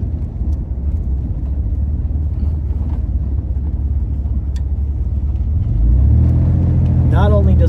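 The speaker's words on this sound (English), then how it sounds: "it has a very torquey, air-cooled flat six engine in the back" Chevrolet Corvair with a torquey air-cooled flat six mounted in the back, driving along a mud-covered road: a steady low engine drone and road rumble throughout, rising slightly near the end, with someone talking over it.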